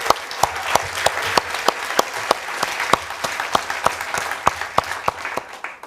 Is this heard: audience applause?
yes